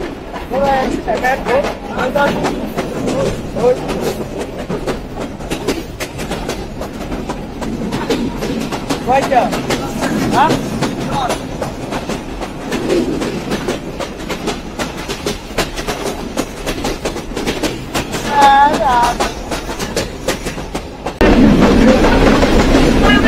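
A Mongla commuter train runs on the rails in Bangladesh, a steady rumble and clatter of wheels filling the carriage, with a person speaking over it and a sharper burst of noise near the end.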